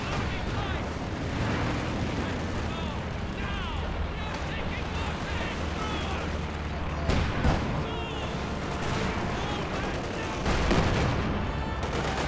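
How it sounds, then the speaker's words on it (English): Mortar and artillery blasts in the winter battle game Company of Heroes 2 keep thumping under a busy wartime game soundscape, with heavier impacts near the seventh and eleventh seconds as a player's voice talks over the action. "These mortars are bothering me."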